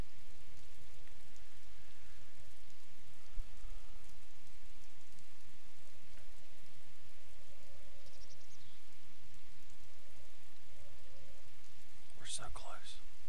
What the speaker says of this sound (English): Are y'all as excited as I am when the rain stops?